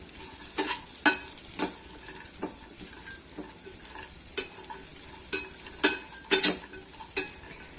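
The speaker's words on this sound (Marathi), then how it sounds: "थोड्याशा तुपामध्ये एक चमचा मी तूप घेतलं थोडासा लालसर असा कलर येईपर्यंत आपण फ्राय करणार आहोत" Dry fruits frying in a spoonful of ghee, a soft steady sizzle broken by repeated scraping stirs and light clinks of a spoon against the pan, close by with no voices.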